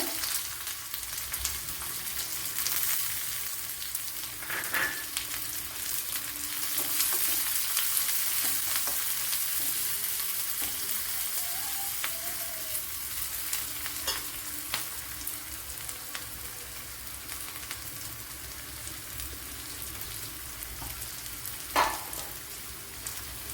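Chopped shallots and fenugreek frying in oil for a Kerala-style bitter gourd dish, a continuous close crackling sizzle with occasional stirring scrapes and soft clinks, no speech.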